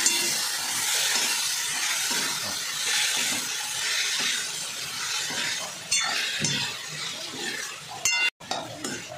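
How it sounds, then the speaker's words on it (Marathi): Ridge gourd sautéing in hot oil in a pan for a spicy village-style curry gives a steady, close hiss and sizzle, with a few faint clinks of a utensil toward the end. "आता हा दोडका चांगलं परतवून घ्यायचं."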